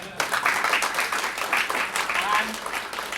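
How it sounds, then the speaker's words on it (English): An audience at the DevOpsDays Singapore 2015 tech conference claps for the organizing team, a steady patter of applause from a room full of people, with speech mixed in. "just a round of applause for all the organizing team"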